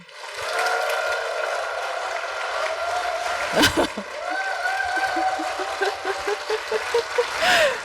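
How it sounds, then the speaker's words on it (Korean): Lecture audience at a touring talk in a hall, giving sustained applause that continues steadily for several seconds with a hum of background noise. "여러분들의 뜨거운 박수로 본 강연회를 시작하겠습니다"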